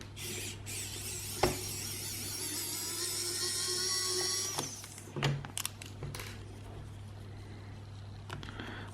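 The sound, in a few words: electric screwdriver undoing PS4 controller screws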